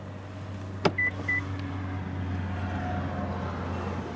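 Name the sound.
2018 Nissan Murano Platinum power-return rear seat motor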